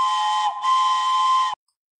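A Lego Powered Up hub plays its built-in whistle sound, a loud, steady steam-whistle tone lasting about a second and a half with one brief dip near the start, then silence.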